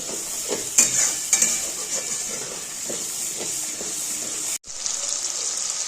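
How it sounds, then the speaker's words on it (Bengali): Ginger, garlic and onion sauté in a pan with a steady close hiss of frying oil, light stirring scrapes early on, and a brief break near the end before the sizzle resumes. "ওই আদা রসুন পেঁয়াজ সবই ভালো মতো কষিয়ে নেব।"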